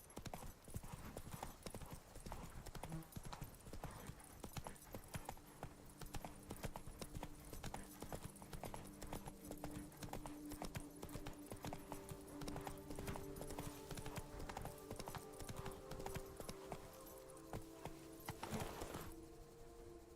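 Horse hooves clip-clopping steadily at a gallop in The Witcher 3, a continuous near rhythmic drumming that runs the whole stretch, with a brief whinny and faint game effects mixed in.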